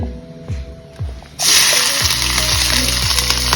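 Onion tossed into hot coconut oil hits with a sudden loud burst of sizzling that then holds as a steady, close, dense crackle, with a faint tonal background underneath and no voices.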